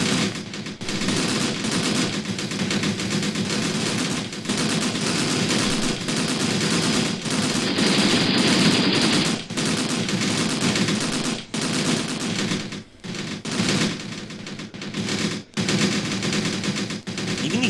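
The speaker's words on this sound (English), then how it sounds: "Got a lot of machine guns here." Sustained machine gun fire and overlapping gunshots from the combat game Graviteam Tactics, loud and nearly continuous for most of the stretch, with brief pauses near the end and no talk.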